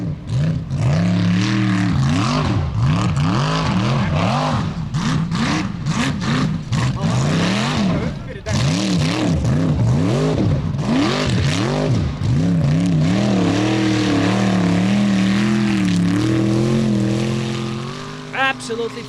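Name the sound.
Formula Offroad cars racing a time attack track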